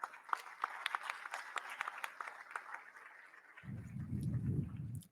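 Sparse, fairly quiet clapping from a forum audience welcoming a panelist at a peace-building conference in Mexico, scattered claps for a few seconds before a low rumble of handling noise takes over.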